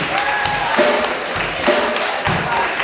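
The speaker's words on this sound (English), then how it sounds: "Everybody give Mr. Walt Wise a round of applause" A live audience applauds pianist Walt Wise, a guest performer on Friday nights. Dense, close clapping fills the short stretch, with a few heavier thuds and crowd murmur underneath.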